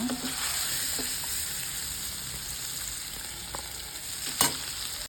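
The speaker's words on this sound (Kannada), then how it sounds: "ಸ್ವಲ್ಪ ಫ್ರೈ ಮಾಡ್ಕೊಳ್ಳೋಣ" Marinated paneer cubes frying in oil in a pan for palak paneer, with a steady close sizzle broken by a few stirring clatters and scrapes.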